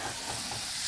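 Shallot and celery frying in butter give a steady, close sizzle with light stirring, a continuous crackling hiss that holds throughout and has no voices over it.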